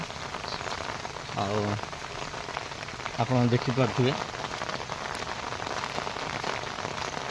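Steady rain hiss fills the background throughout, with a person speaking briefly over it in two short bursts.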